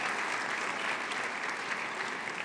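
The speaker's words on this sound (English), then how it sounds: "give him a round of applause" Sustained audience applause at a concussion legacy charity gala, a dense, steady wash of many hands clapping that carries evenly through the whole stretch without talk.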